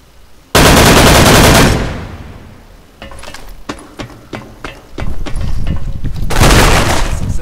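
Machine gun fire in the online shooter Special Force 2, a loud sustained burst at the start, then a run of sharp separate shots, and a second heavy burst near the end.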